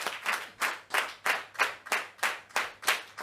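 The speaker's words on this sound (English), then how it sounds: "So if I say Labarina, you clap 10 times." An audience claps in unison during a clapping game at a conference session on climate research in Africa: a steady, evenly spaced series of sharp group claps, fairly close and moderately loud, with no talking.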